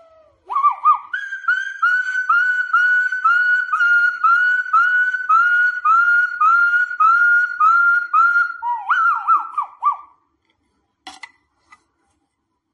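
A person vocally imitates puppies fighting on the street, a rapid run of high, yelping whistle-like squeals repeated steadily for about ten seconds, loud and close, then breaking off into silence with a couple of faint clicks.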